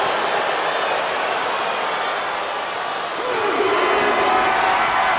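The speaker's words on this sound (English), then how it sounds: "This crowd is thunderous right now." A crowd in the WWE 2K24 wrestling video game roars in a steady, dense wash of cheering that swells slightly after midway and never drops out.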